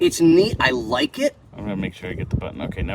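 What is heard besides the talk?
No everyday noise stands out behind the speech.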